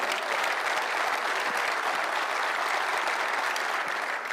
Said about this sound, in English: How about a round of applause for Colleen?